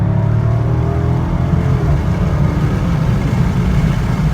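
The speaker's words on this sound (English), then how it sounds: "So it's really, really nice exhaust sound." A 2016 Dodge Charger Scat Pack's deep, loud exhaust rumbles continuously from close by in normal mode, a heavy low-pitched drone holding steady throughout with no voices.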